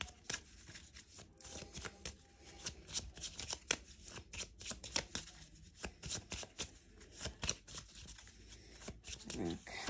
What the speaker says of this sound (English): I'm just going to pull another card for you guys and see what other cards that we get.